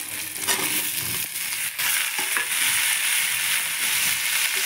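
Potatoes and beans fry with onion in a pan, giving a steady, bright sizzle with occasional scraping and stirring clatters close by.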